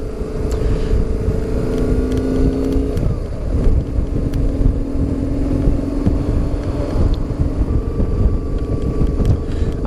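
A BMW R850R motorcycle riding on a village ring road gives a loud, continuous engine drone with shifting pitch, heavy wind buffeting and road rumble throughout.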